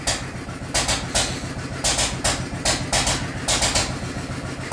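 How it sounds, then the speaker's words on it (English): A Fuller & Johnson 5 HP hit-and-miss engine runs steadily, its loud repeating firing pulses landing roughly every half second over a continuous low mechanical chug, with no voices. "what you hear in the background running is the engine"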